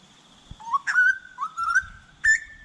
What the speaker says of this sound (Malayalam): നാട്ടിലത്തെ കോയിലിനെ പോലുള്ളൊരു കിളിനെ കണ്ടോ നിങ്ങൾ?